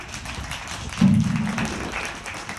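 Brief burst of audience clapping at an open seminar on Akhnoor Road, swelling suddenly and then thinning out over about a second in a moderately noisy hall, with no talk over it.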